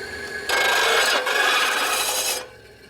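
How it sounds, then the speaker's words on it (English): A brake shoe for a 1958 Harley panhead is ground flat against a table, giving a steady close abrasive rasping for about two seconds with a brief dip midway, over a constant background hum. "And you see how it grinds in the same spot."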